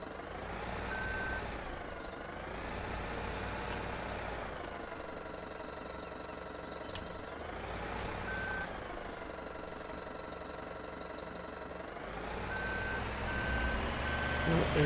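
A farm vehicle in Farming Simulator 17 reversing, its backup alarm beeping in short evenly spaced pulses over a loud, steady diesel engine drone that rises and falls slightly throughout.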